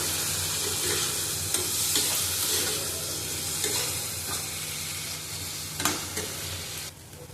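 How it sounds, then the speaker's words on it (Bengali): Potatoes and vegetables sauté in a hot pan for a raw banana and pea dal fritter curry, with a continuous close sizzle and scattered stirring scrapes and clicks throughout. "আমি ভাজবো না এর সাথে কষিয়ে নেব"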